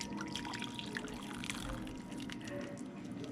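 Hot water poured into a spicy shrimp instant ramen cup, a faint steady trickle and dripping close by, with no speech over it.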